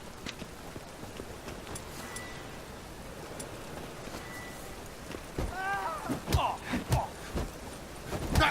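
A horse gallops in The Witcher 3: Wild Hunt, its hoofbeats soft and blurred under a noisy, rain-like wash at first, then sharper, closer thuds and scuffles near the end.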